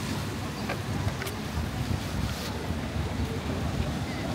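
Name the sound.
strong wind on a stormy day in Valletta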